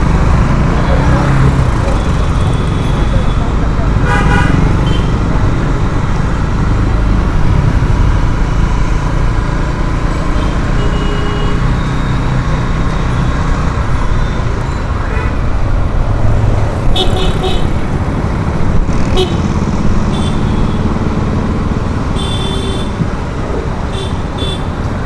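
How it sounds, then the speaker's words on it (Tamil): Busy city road traffic in Chennai, a continuous dense rumble of engines and passing vehicles with several short car horn toots scattered throughout, close and loud. "ஃபுல்லாக டிராஃபிக்காக இருக்குது"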